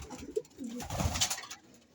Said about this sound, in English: let's check out the other birds